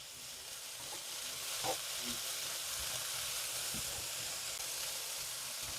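Pasta ingredients crisping in a hot pan, a steady loud sizzle and hiss with occasional scraping and stirring taps as the food is broken up.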